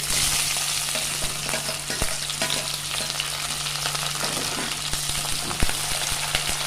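Okra fries in a hot pan with a dense, steady crackling sizzle, close and fairly loud, broken by occasional sharp pops and a low constant hum.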